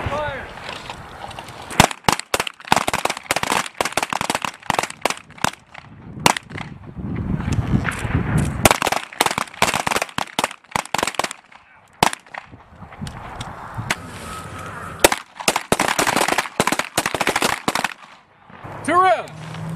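P320 M17 pistol gunshots ring out during U.S. Army handgun training, dozens of sharp cracks fired in quick bursts and scattered singles, some overlapping from several shooters, with brief pauses and shouted voices in between.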